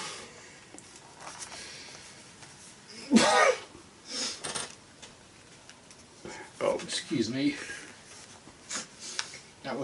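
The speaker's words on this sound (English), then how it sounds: "not a laugh, that was a sneeze there." A single sneeze bursts out amid a casual indoor conversation, followed by scattered talk and small rustling noises.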